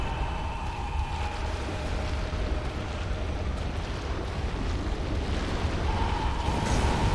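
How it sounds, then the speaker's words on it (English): Lava spewing and explosions inside a Bloodborne chalice dungeon, heard as a steady, dense roar with low rumbling bursts that fill the whole stretch without letting up. "It's also impossible to hear because of all of the lava spewing and explosions."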